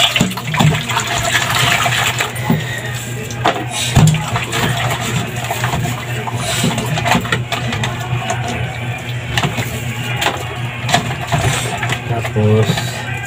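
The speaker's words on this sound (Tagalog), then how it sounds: "kuha tayo ng tubig dito para yung madulas, madulas na plato magbabad natin dito." Tap water runs steadily at a kitchen sink while dishes are washed and soaked, with clinks of plates and a constant hum underneath.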